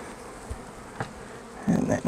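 Close buzzing of many honey bees as they are shaken off a hive frame, with a few soft knocks and a louder swell of buzzing near the end.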